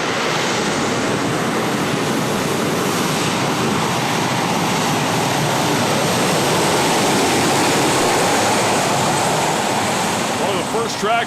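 Turbine-powered pulling tractor making a run at a tractor pull, a loud continuous jet-like roar and hiss holding steady and close throughout, with no clear talk over it.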